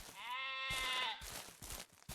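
A sheep in Ranch Simulator gives one long, clear, close bleat, followed by a few soft rustles and thumps.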